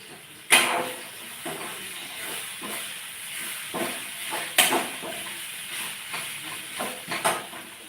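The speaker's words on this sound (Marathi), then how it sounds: "आलू वड्या आलू वड्या तळते" Aloo vadi fry in hot oil, a hissing sizzle with several sharp bursts and crackles rising and falling across the stretch.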